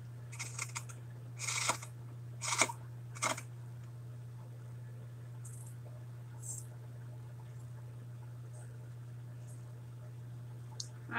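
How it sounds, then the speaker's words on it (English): Dull scissors snipping through material while working on altered ceramic tiles: a few short, crisp cuts in quick succession near the start, then faint scattered clicks and handling noise over a steady low hum. "I so need a new pair of scissors."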